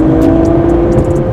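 Ferrari 296 with its V6 engine accelerating hard, a loud, close, rising engine tone with a strong steady hum and brief high chirps over it, lasting only a moment.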